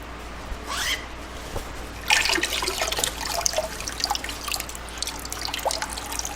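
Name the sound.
water running out of harvested microgreens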